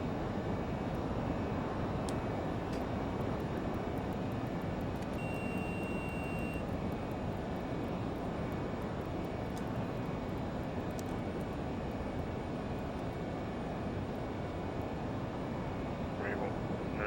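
LearJet jet engines spool up for takeoff in a flight simulator, a steady broadband roar and whine that holds loud and even throughout, with faint tonal whistles above.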